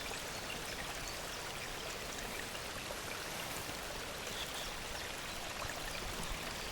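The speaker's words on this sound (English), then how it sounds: "the running water you can hear is behind me" A stream in the Wye valley in Wales runs steadily behind the listener. It makes a soft, even rush of water with no pauses and no voices.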